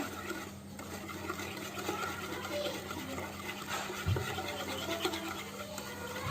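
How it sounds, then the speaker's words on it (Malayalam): Egg biscuit batter with vanilla essence being mixed in a bowl, continuous scraping and stirring at close range with a faint steady hum underneath, no speech. "ഇനി ഇതെല്ലാം കൂടെ നന്നായിട്ടൊന്ന് മിക്സ് ചെയ്തെടുക്കാം."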